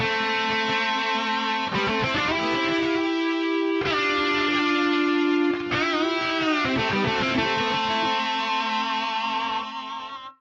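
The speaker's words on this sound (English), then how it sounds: "the detune with this distorted sound" Sustained distorted electric guitar chords through an Axe-Fx III pitch block detune, with a thick, wavering shimmer, changing pitch a few times and ringing loud and continuous until fading at the end.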